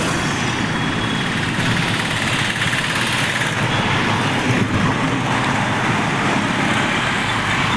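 Stalled cars and trucks idle in a traffic jam on a Mumbai bridge, a dense, constant engine rumble and road hiss filling the air with no pauses.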